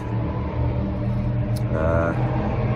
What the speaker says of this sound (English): Cars are still going